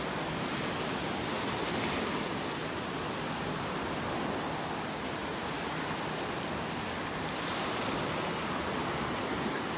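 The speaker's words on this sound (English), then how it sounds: "Loving these waves this morning." Ocean waves wash steadily onto the beach at Delnor-Wiggins in Naples, Florida, at low tide, a continuous broad surf roar without breaks and no voices.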